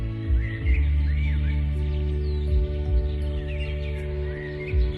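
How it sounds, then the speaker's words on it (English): A cuckoo bird calls in short, repeated chirping phrases, fairly faint over a steady, humming musical drone. "Now here comes the cuckoo bird."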